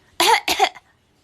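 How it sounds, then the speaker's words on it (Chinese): A one-year-old baby gives a fake cough, two short forced bursts close together near the mic, then quiet. "好了，不咳嗽了好吗？"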